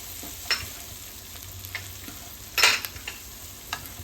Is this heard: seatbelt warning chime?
no